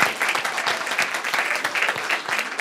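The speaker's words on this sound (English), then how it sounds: "Can we get a round of applause for everybody who participated in our service today?" A congregation at a Sunday service claps steadily, a lively round of applause with individual claps audible throughout.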